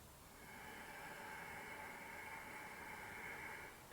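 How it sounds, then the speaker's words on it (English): Slow nasal inhalation for pranayama breathing with a relaxed, narrowed throat, a steady soft hissing rush that swells and holds for several seconds, close and alone. "closing my mouth, I'm going to breathe in through my nose making this sound."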